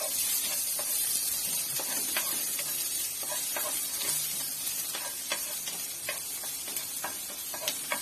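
Tofu fries in a hot pan with a constant loud sizzle and hiss, broken by scattered sharp pops and spatters, alone with no voices.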